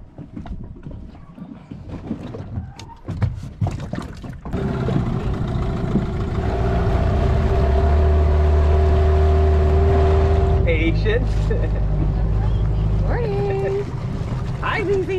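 A well-used dinghy's outboard motor starts up after some clattering and handling, then drones loudly and steadily nearby on the water, with a shift in pitch partway through and speech heard over it.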